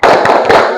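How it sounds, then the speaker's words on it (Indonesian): Classroom students doing a rhythmic spirit clap together, a short, loud sequence of close sharp claps in quick pattern. "Kita tepuk semangat dulu."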